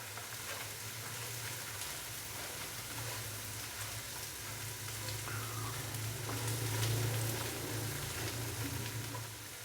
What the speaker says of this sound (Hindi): थोड़ा सा इसको भून लेंगे ताकि अदरक और लहसुन के पेस्ट का कच्चापन ख़त्म हो जाए।